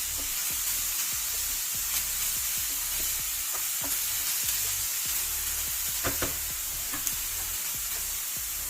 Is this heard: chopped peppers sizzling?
yes